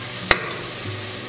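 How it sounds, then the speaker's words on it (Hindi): Chicken pieces tipped into golden-brown fried onions in a pressure cooker, a sharp clatter as they drop in, then steady sizzling and frying hiss. "तो अभी हम इसमें चिकन डालेंगे"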